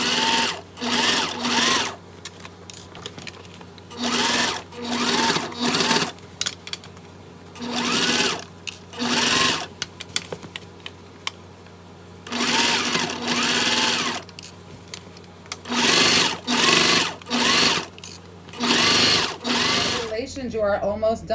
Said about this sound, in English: you're gonna go ahead and stitch all the way around